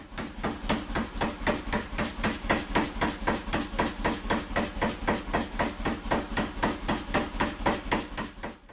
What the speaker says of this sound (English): he can go ahead and start hammering the texture in it